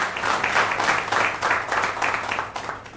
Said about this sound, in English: give a big hand of applause to his